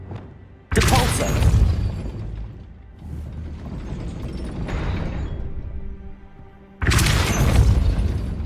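A Depulso spell blast cast in the Hogwarts Legacy video game, heard as two loud, sharp bursts with a rumbling mechanical tail between them, near and with no talk over them.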